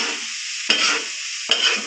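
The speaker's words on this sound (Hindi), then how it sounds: "इसको अब फाइनल लुक आने तक मैं भूनता हूँ" Mutton takatak fries on a tawa griddle, a steady hissing sizzle broken twice by sharp scraping strokes of a metal spatula stirring and chopping, close and loud.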